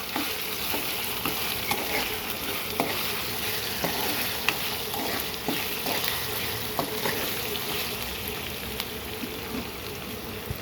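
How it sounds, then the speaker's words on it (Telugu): Lemon rice frying in a pan while being stirred until golden, a steady loud sizzle under frequent scraping strokes of a spoon, with no talking. "ఇలా గోల్డెన్ కలర్లో వచ్చేదాకా ఫ్రై చేసుకోవాలండి"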